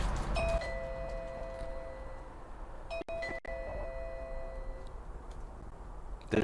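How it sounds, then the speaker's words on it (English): A battery-powered eufy video doorbell chime rings twice in a quiet room, its tones lingering and fading, with faint ticking in the background. "I'm going to go ring the front doorbell right now."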